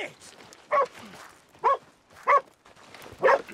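Dog barks four times at a steady, unhurried pace in the video game Red Dead Redemption 2, each bark loud and close, with someone talking quietly in between.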